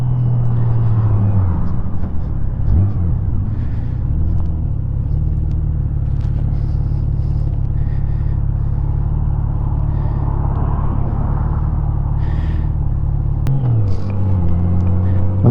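A 2002 Honda GL1800 Goldwing motorcycle cruises on the interstate at around 80, its loud, steady engine drone and rumble holding constant with a brief pitch dip near the start and again near the end, under heavy wind and road roar.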